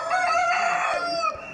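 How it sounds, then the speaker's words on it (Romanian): A rooster crows once at a national poultry exhibition at Romexpo, a single sustained, close, loud cock-a-doodle-doo heard alone. "o să filmez cocoșii ăștia doi"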